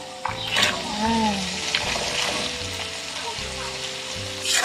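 Vegetables — carrots, sweet peas and corn — tossed and stirred in a hot pan, with a steady sizzle and scraping stir strokes up close.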